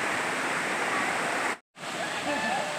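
The Dalki waterfall at Godri ghat roars continuously and nearby, cutting out briefly in the middle; afterwards a voice speaks faintly over the rushing water.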